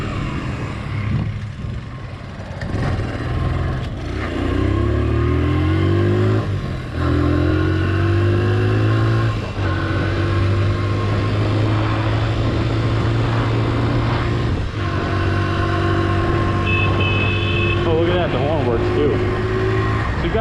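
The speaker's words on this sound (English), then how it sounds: "Clutch doesn't slip under hard acceleration." Engine of a 1983 Honda XL100 motorcycle pulling under hard acceleration, a loud close drone with rising harmonic sweeps as it revs through the gears, continuous for the whole stretch with a voice over it.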